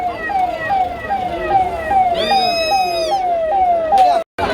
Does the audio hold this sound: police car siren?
yes